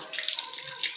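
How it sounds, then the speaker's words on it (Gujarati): Water runs from a kitchen tap in a steady, soft hiss for a brief moment, close and alone. "ગોપાલ, નળ હરખો બંધ કર"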